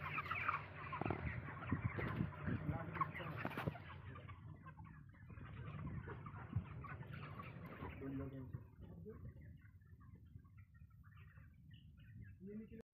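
Broiler chickens in a very large poultry shed holding around 10,000 birds cluck and call faintly in a soft, distant chorus, with voices talking over them.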